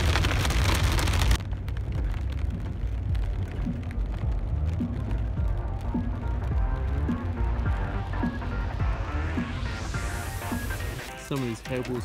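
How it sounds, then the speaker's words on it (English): Hail pelts a campsite in a sudden storm, a dense, steady clatter of icy pellets hitting the ground and gear up close, loud and continuous throughout. "Just on the way back, and now it's a hailstorm."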